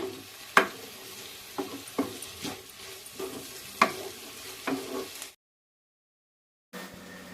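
Ginger and garlic paste fry and get stirred in a pan for Mumbai street-style pav bhaji, a steady sizzle broken by sharp spoon scrapes and taps, then a short silence before the sizzle returns.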